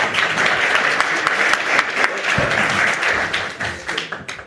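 Audience applause as a company CEO and founder walks on stage at an investor event, a dense steady wash of many hands clapping that carries on throughout before thinning toward the end.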